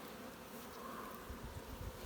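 Steady low buzzing of many honey bees in an open hive, a dense continuous hum close by, with no talking.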